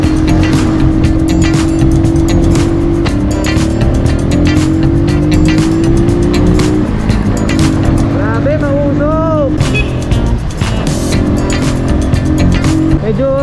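Cars rush past on a busy road in Batangas, with loud, steady engine roar, rising and falling passes and an occasional horn, while a person talks over the traffic.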